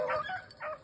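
A beagle hunting dog gives a brief yip or bark during a rabbit hunt in Missouri, two short close calls in under a second.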